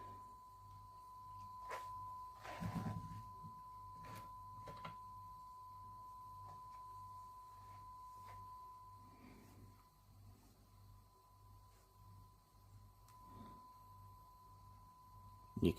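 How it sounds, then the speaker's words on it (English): A steady 1 kHz sine test tone from a signal generator fed into a Fender '68 Custom Deluxe Reverb amplifier. It hums faintly and continuously under low background noise, with a few soft knocks and handling sounds. "you can see the signal generator there, 1 kilohertz sine wave going in"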